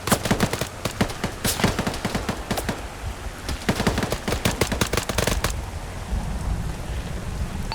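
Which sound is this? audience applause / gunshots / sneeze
gunshots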